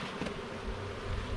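Honeybees buzzing in a queenless colony as the hive is opened for inspection, a dense continuous droning hum close to the microphone with no pauses.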